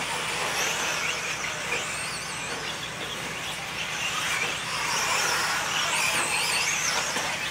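Modified 4wd short course RC trucks race at a fall 2015 event, their electric motors whining and wavering in pitch as they accelerate and brake, a continuous busy drone with no talk.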